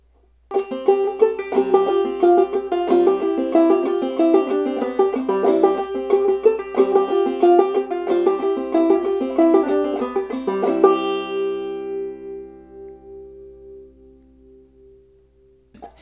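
A lively clawhammer banjo plays the A part of "Old Molly Hare" in a steady rolling rhythm, bright plucked notes repeating a short phrase, then a final chord ringing out and fading.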